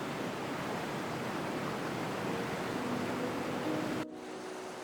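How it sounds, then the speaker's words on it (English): Steady, dense rush of the Orkhon Waterfall in Mongolia, a loud broadband roar of falling water that holds evenly for about four seconds and then cuts to a quieter, duller wash of water. "The Orkhon Waterfall is more than a sight to behold."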